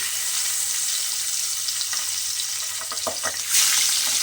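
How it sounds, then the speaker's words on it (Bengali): Pabda fish sizzle in hot oil in a pan, a steady bright frying hiss with a few soft clinks and stirring scrapes as the pieces are turned, close and continuous with no talking. "দিয়ে এগুলো কিন্তু উল্টিয়ে পাল্টিয়ে ভেজে নেব।"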